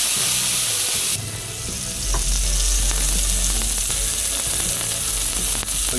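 A tuna steak goes down into a hot, smoking seasoned cast iron pan and sears with a loud, continuous sizzle, sharpening into a stronger hiss after a second, with occasional pops and scrapes.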